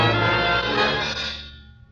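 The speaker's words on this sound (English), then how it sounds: "Church bell?" A single church bell in Belgrade, 1941, rings out with a rich, sustained tone that slowly fades away over about two seconds, heard alone.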